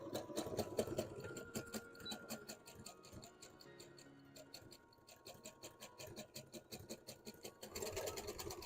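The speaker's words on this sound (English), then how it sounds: "I might make it a little bit wider on the zigzag stitch" A sewing machine runs a zigzag stitch in a steady, fast, rhythmic whir with quiet stretches and clicks, heard fairly faint and close.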